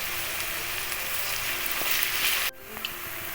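Sliced onions sizzle and fry in a hot pan for a mutton dish, a steady close crackle with a brief sharp dip partway through before the sizzling resumes.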